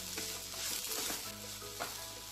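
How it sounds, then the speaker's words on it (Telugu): Bankoti leaf curry with chili powder and salt being stirred in a hot pan, brief scraping strokes over a continuous close sizzle, with no speech. "ఇప్పుడు తగినంత కారము, ఉప్పు, అంతా ఒకసారి మిక్స్ చేసుకోవాలి."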